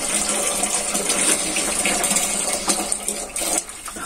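Piped household water supply runs steadily, a continuous gushing, splashing flow like a tap filling a basin, loud and close, easing slightly toward the end.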